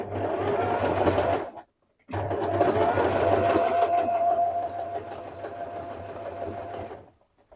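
An electric sewing machine stitches duck canvas fabric with a steady, close whirring hum. It stops briefly, then runs again before cutting off.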